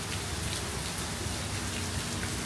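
Steady rain pattering on surfaces at a zoo in Singapore, a dense continuous hiss with no voices, even and fairly close throughout.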